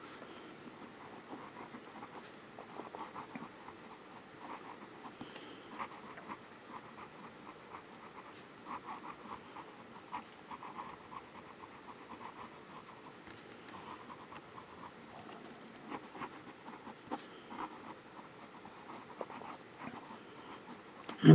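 A Jinhao 100 Centennial fountain pen with a fine nib, freshly dipped in ink, scratches steadily across paper in close, continuous strokes for the whole stretch, soft and even with small irregular ticks.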